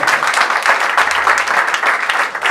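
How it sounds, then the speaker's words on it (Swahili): An audience applauds at a CD launch event for Jiwa Hassan, a dense, steady wash of many hands clapping throughout, loud and sustained without a break. "Naomba tumpigie makofi tafadhali."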